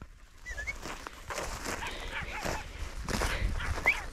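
Podenco hunting dog on a rabbit hunt gives short whimpers and yips close by, with brushy outdoor rustling throughout and a few faint spoken words under it.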